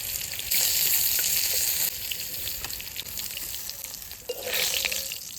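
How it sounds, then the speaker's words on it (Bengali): Fish frying in a pan, a loud, steady close sizzle with hissing surges and occasional crackles throughout. "খুব সুন্দর ভাজা হয়েছে"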